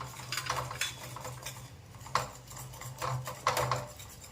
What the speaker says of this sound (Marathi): असं व्हीपच्या साईने एकत्र करायचं आहे त्याने गुबुया होत नाही आणि एकसारखं मिक्स होईल